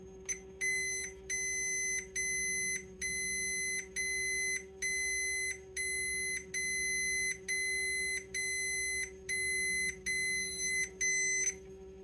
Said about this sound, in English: when I press the button, be ready, it will beep a lot.